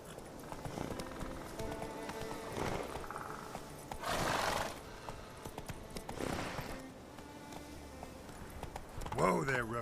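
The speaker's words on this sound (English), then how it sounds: "Whoa there, Roach" Roach, a horse in The Witcher 3, gallops with continuous clip-clop hooves and neighs, including a sharp whinny at the end, while voices speak intermittently over the hoofbeats.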